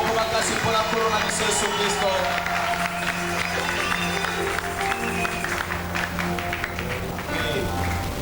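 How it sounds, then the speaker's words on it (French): A church congregation at a wedding blessing service applauds loudly, dense clapping and crowd noise filling the space continuously, with music or voices mixed underneath. "Applaudissez très fort le Seigneur"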